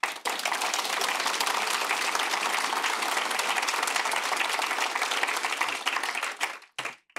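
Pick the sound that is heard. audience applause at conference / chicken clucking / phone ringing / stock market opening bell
audience applause at conference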